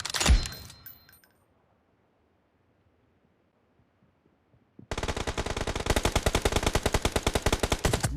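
Gunfire in the battle royale game PUBG: one loud shot with a fading echo, a few seconds of near silence, then a sustained rapid automatic burst of evenly spaced shots, close and loud.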